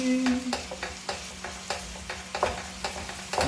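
Minced beef frying in a pan while being stirred, a steady close sizzle broken by repeated scraping stirs at a regular rhythm, with no talking.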